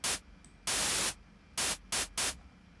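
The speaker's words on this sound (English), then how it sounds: "I think I'm just gonna stick with the white noise, I guess," The Vital synthesizer plays white noise in five separate bursts of full, hissing static. One long burst is followed by several shorter ones, with quiet gaps between them.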